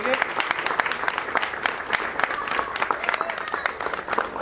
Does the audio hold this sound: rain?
no